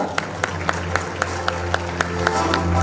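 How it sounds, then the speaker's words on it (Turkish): Audience at an awards ceremony claps in a steady, evenly spaced rhythm, sharp synchronized claps about four per second over a low crowd hum and background music. "Klas Magazin'den Muammer Kapucuoğlu alkışlarınızla."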